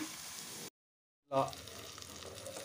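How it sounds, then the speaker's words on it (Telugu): Onion frying in oil makes a faint, soft sizzle that cuts out to a brief silence before resuming, a little louder for a moment, with no voices. "ఈ ఆనియన్ అయితే ఆయిల్లో వేగనివ్వాలి"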